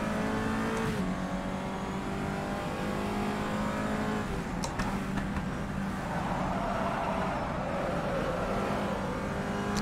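A Peugeot 208 GTI Cup race car in the rFactor 2 simulator, engine loud and close, revs climb and drop through gear changes as it accelerates, with brief tire noise, a steady driving roar without pause.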